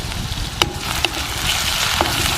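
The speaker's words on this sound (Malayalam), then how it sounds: "വെളിച്ചെണ്ണയിലേക്ക് നമ്മൾ കുറച്ച് ചുവന്നുള്ളി ചതച്ചത് ഇടാം" Crushed shallots and crushed garlic sizzle steadily in hot coconut oil, a continuous close frying hiss with a few sharp clicks of stirring or utensil contact.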